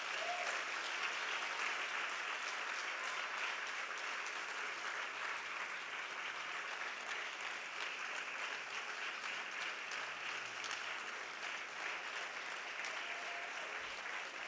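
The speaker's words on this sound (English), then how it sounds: "Can we give them a big round of applause" Sustained applause from a large audience in a school auditorium after a Grade 4 performance, steady and fairly loud throughout with no pauses, dense clapping filling the whole stretch.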